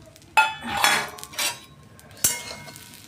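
A metal kadai set on the stove to heat before ghee goes in, handled with clanking and scraping knocks, two sharp metallic hits and some rattling in a quiet kitchen.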